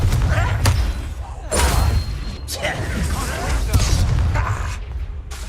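Confringo blasting spell explosions in Hogwarts Legacy: several loud, booming impacts spaced a second or so apart, with sharp thuds and crackling debris over combat noise and voices.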